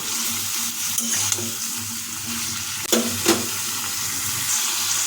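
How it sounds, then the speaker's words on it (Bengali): Tomato and slit green chillies are being stir-fried for a vegetarian bottle-gourd stem dish, with a steady sizzle in the pan and a couple of sharp spatula scrapes and knocks partway through, close up with no voices. "তাই আবার খুন্তি দিয়ে তাকে কিছুক্ষণ নাড়িয়ে নেব"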